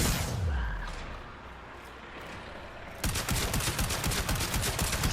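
Automatic gunfire in the Warframe video game empties a full magazine, a rapid, loud burst of shots that starts after a stretch of rumbling noise and keeps going to the end.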